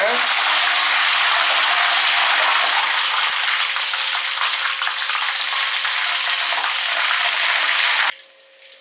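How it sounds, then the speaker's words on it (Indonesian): Steady, loud sizzling of garlic frying in hot oil, a dense crackle that holds for about eight seconds before cutting away to quieter background. "Kita goreng dulu bawang putihnya."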